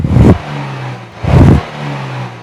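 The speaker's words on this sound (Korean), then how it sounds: "일단 머플러 배기음 한번 들어보시죠." Kia Stinger 3.3 GT in sport mode, its muffler exhaust barking through two short, loud throttle blips, each deep roar followed by a lower idle rumble.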